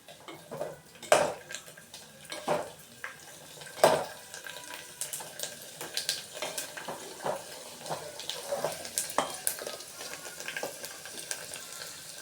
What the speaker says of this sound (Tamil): ஆல்ரெடி எண்ணெய் ரொம்ப சூடாக இருக்கு இல்லையா, அதனாலே டக்கு டக்குன்னு பொரிஞ்சிடுது.